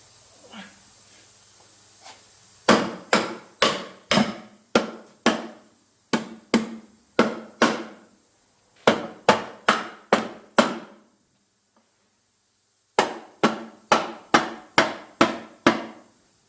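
A hammer taps valves into place in a Vauxhall F16/F20 gearbox during a repair. Sharp metallic knocks come close and loud in three quick bursts of about six to eight blows each, with short pauses between bursts.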